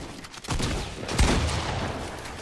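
A flurry of gunshots in the Fortnite video game, sharp cracks and a heavier blast layered over constant battle noise, fairly loud and busy.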